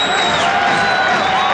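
Arena crowd noise at the 1990 NBA Finals, Chicago Bulls versus Lakers, during a timeout: a steady, dense roar of many voices with scattered whoops, loud and continuous throughout.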